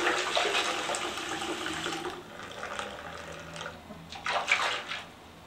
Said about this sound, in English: I would suggest a little lukewarm water